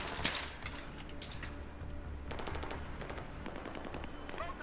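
Rapid machine gun bursts crackle through a Battlefield 3 co-op firefight, with repeated sharp volleys over a steady low rumble, fairly faint overall.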